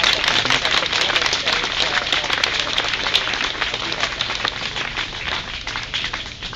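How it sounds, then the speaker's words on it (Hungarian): A crowd at an outdoor May Day rally in Budapest applauds in steady, dense clapping that fills the whole stretch at close range, slowly thinning toward the end. "Tapsoljuk meg őket!"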